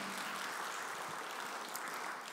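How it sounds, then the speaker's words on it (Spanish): A church congregation claps during a Spanish-language sermon service, soft distant applause heard faintly and evenly throughout the short stretch. "Démosle un fuerte aplauso al Señor"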